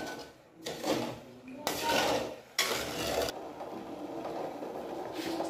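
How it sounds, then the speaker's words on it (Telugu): A spoon scrapes and stirs sugar and water in a metal pot in several short bursts, with clinks against the metal, close and fairly loud, with no talking. "ఒకసారి ఇలా బాగా కలుపుకుంటూ ఉండాలన్నమాట"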